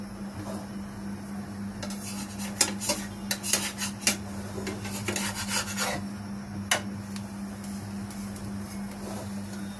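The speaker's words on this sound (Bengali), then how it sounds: "ফ্রাই প্যানে পরোটাটাকে দিয়ে নিচ্ছি।" A frozen paratha cooks in a frying pan with little oil, a spatula scraping and rubbing against the pan in bursts over a low steady hum, close by and without speech.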